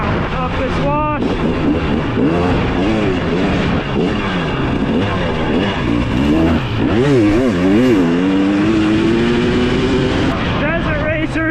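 A 2023 Husqvarna TX300 dirt bike climbs a desert wash, the engine loud and near, revving up and down through shifts before settling into a steady rising drone; a rider speaks at times over the motor.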